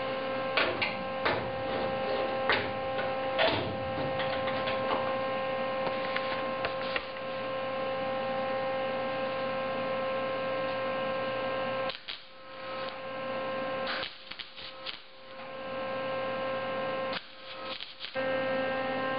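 Welding a bead on a 1973 Toyota Celica body panel with copper backing behind the seam: a close, steady buzzing crackle over an electrical hum, broken by short pauses and bursts near the end, with no talking.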